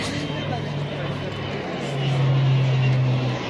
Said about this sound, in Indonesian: Pesawatnya rendah sekali Bapak Ibu.